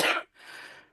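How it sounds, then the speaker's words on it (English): A single short allergy cough, close up, followed by a softer raspy exhale. "Hold on a second, I got a cough."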